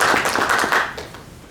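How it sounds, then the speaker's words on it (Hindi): An audience at a book launch bursts into a short round of brisk, dense hand clapping that fades out over a second and a half. "उनके लिए जोरदार ताली।"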